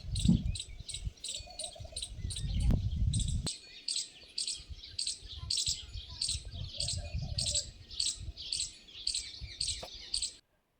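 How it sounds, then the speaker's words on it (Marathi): Birds chirp in a quick, repeated rhythm outdoors in a village setting beside an open fire, with an insect-like trill running through it and crackling, rustling noise early on. "पक्ष्यांचा चिवचिवाट चालू होता."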